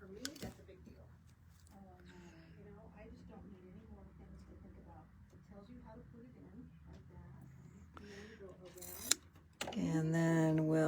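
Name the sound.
scissors trimming quilt fabric for table runner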